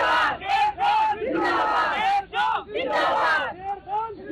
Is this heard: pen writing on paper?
no